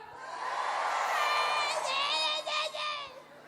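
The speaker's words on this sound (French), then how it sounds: "écoutez crier autant de femmes que ça fait" A large crowd of women at a Printemps du Rire comedy show in Toulouse screams and cheers in a loud, high-pitched roar that swells, holds for a few seconds and then tapers off.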